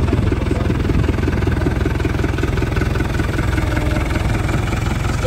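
A tractor engine runs close by with a steady, low chugging throb that pulses evenly throughout.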